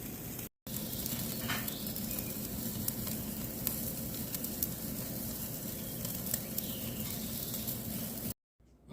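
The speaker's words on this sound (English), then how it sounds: "I'll catch up with you when I'm done searing" A tomahawk ribeye sears on a Weber kettle grill, making a loud, continuous close-up sizzle with occasional crackles and no speech, broken by two short moments of silence.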